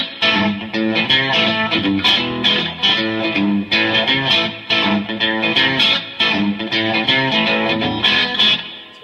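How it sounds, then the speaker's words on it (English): An electric guitar plays through the Texas Blues amp model of a NUX MG-200 modeling processor, a Fender Tweed style tone with light reverb, strummed chords and picked notes in a steady rhythm, close and full, with no talk. "It's got sort of like a Fender Tweed kind of amp sound. Nice little bit of reverb on there"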